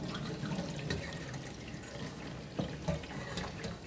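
Boiled mung beans drained of their cooking water, a continuous close pour and splash with a few brief clinks and drips, no voices.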